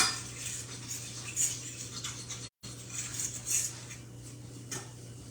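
A spoon scrapes and clinks against a pan while roux for regular gravy is stirred. The strokes are soft, uneven and close, over a steady low hum, with a brief dropout midway.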